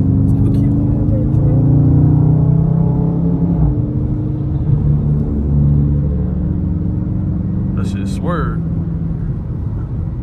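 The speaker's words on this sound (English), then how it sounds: "when this engine start to growl" A Dodge 392 Scat Pack V8 growls at night with a steady low rumble and rising revs, loud and close, with people talking over it.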